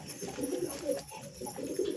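Pet pigeons coo softly in repeated low, throaty bursts, close by and fairly quiet, with no one talking.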